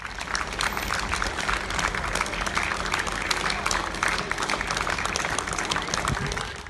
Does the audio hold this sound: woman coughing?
no